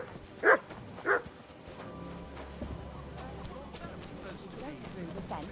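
A dog in the Kingdom Come Deliverance 2 video game gives two short, sharp barks close together near the start, then a steady ambient bed with faint horse hoof clops takes over.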